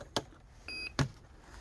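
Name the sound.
model sound unit startup beep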